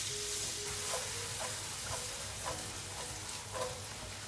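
Pancetta and onions fry in a pan, giving a quiet, continuous sizzle with soft scraping stirs every half second or so and no talk.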